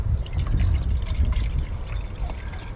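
Water poured steadily from a container into a cup during woodland bushcraft, a continuous close splashing trickle with no talk.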